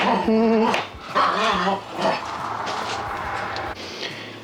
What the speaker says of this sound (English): Oh, the dogs are having fun.